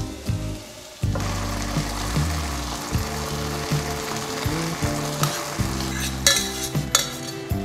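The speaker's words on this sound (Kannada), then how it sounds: "ಸೊ ನೆಕ್ಸ್ಟು ಹೆಸರು ಬೇಳೆ ಮತ್ತು ಅಕ್ಕಿನ ಬೇಯಿಸ್ಕೊಂಡಿದ್ವಲ್ಲ, ಇದನ್ನು ಇದಕ್ಕೆ ಟ್ರಾನ್ಸ್ಫರ್ ಮಾಡ್ಕೊತಾ ಇದ್ದೀನಿ" Cooked moong dal and rice are tipped into a pan for pongal and stirred, giving steady scraping and clinking of a spoon against the pan over a low sizzle, with short knocks throughout.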